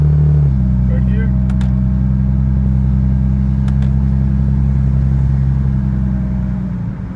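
The 2JZ-swapped Toyota GR86 with added paddle shifters on an automatic gearbox drones loudly and steadily as it pulls through a gear. A brief shift change comes near the start and the tone fades slightly at the end.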